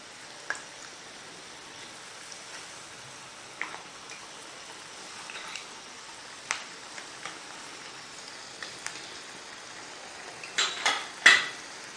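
Cone samosas sizzle in hot frying oil with a steady crackling hiss, broken by sharp metallic clinks and taps as tongs turn them, louder clatters bunching near the end.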